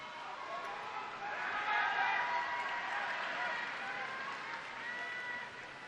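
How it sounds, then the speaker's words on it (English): A large crowd cheers and applauds at the start of the 2024 supertri E World Triathlon Championship, a broad, sustained roar heard from a distance that swells midway and holds. "The cheer of the crowd tells the story"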